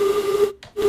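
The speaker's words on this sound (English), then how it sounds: "So we have a nice horn there" Simulated train horn from a Bakerloo Line train simulator game, a steady sustained tone that cuts out briefly near the end before resuming, loud and alone.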